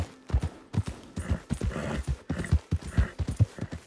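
Horse hooves clip-clop at a steady trot in Red Dead Redemption 2, a close, rhythmic run of soft thuds with no break across the stretch.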